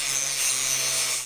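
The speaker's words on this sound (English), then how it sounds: "grinding, drilling, punching out parts, welding other sections. It's non-stop in here." Machinery in a windmill parts factory where parts are ground, drilled, punched and welded, giving a steady, loud, bright grinding hiss with a low hum underneath, continuous throughout.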